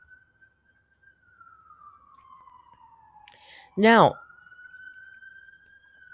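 A siren wails outdoors at a distance: a thin steady tone glides slowly down and then back up. A loud voice cuts in briefly near the middle.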